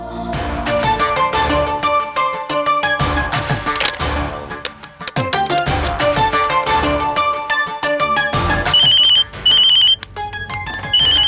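A telephone rings in a domestic drama scene, its repeated electronic ringtone bursts standing out over a dense background music score, loud and close, with no talk during the rings.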